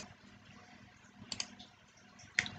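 A computer mouse clicks while saving settings in ioBroker, giving two faint, sharp clicks close together, then one slightly louder click a second later, over quiet room noise.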